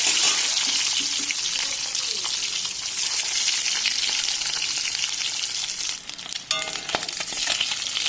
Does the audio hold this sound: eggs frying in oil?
yes